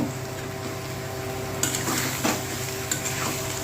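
A ground paste of moringa leaves, onion, garlic, ginger and chili fries in a pan while being stirred, with a constant hiss of sizzling oil and a few scraping spoon strokes near the end.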